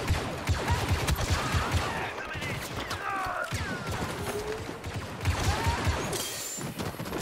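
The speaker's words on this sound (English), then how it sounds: "Who's shooting behind me?" Bursts of gunfire and blaster shots in Star Wars Battlefront 2, a rapid, loud fusillade with crashes and whooshing effects, dense at the start and again near the end.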